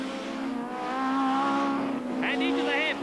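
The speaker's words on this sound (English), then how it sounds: "Jeff Allen is going past Starkey's at 145 miles an hour, and Allen is there as they go down into the S's." British Touring Car Championship cars at Donington in 1992 braking into the hairpin, engines droning loudly and shifting pitch, with a higher squealing tone near the end. A commentator talks over the cars.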